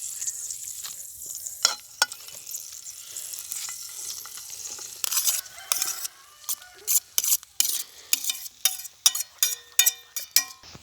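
Plantain slices dropped into hot, just-boiling oil at an outdoor picnic cookout. The oil gives a steady sizzle, and sharp crackles and pops burst out repeatedly in the second half.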